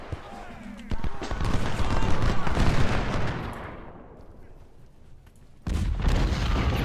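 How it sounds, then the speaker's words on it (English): Cannon volley in the Ultimate General: Civil War strategy game, a loud rumbling barrage of booms and crackling shots that swells, fades to a lull, then erupts again near the end. "We'll let our cannons fire a volley or two, and then we'll charge."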